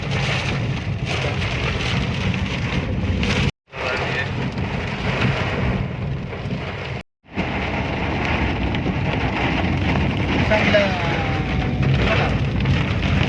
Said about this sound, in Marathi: खूपच जास्त पाऊस आहे इकडे